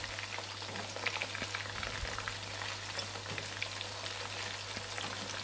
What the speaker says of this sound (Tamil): நம்ம இன்னொரு சைடு வந்து நல்லா திருப்பி விட்டு ஃப்ரை பண்றப்போ மீடியம் ஃப்ளேம்ல வச்சுக்கங்க